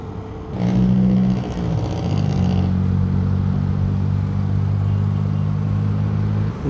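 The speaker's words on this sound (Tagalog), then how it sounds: "Daming sasakyan." Vehicles idle and rumble in heavy traffic at a Manila-area stoplight, heard close from a motorcycle, with one engine revving briefly before a steady low engine drone settles in.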